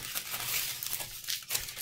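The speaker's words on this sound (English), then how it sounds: "I'm going to take this last piece here and crumple that up." A sheet, likely foil or paper, crumpled up by hand for a Giacometti-style sculpture armature; close, crisp crinkling and rustling bursts in quick irregular succession over a couple of seconds.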